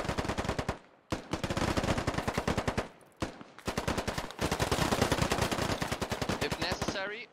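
Rapid bursts of automatic rifle fire from the video game Squad, loud and close, broken by brief pauses, with one sustained stream running several seconds.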